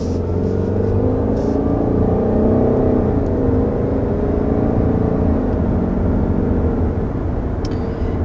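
Steady engine and road drone inside a 2021 Subaru Outback XT touring with a CVT as it accelerates, a continuous loud cabin hum holding without talk.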